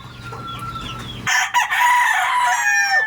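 A rooster crows loudly and close by, a long strained call that cuts in after a quieter stretch of faint background noise and clucking.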